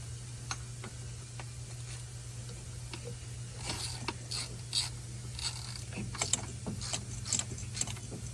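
Ratchet tightening the top bolt on a 2015 Jeep Grand Cherokee 3.6 V6 water pump, giving scattered faint clicks and ticks over a steady low hum, close but quiet with no talk.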